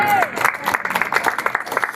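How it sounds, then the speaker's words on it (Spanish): A church congregation applauds, a quick uneven patter of many hands that starts just as a voice trails off, close and moderately loud. "¿Cuánto dan un fuerte aplauso a ese Padre?"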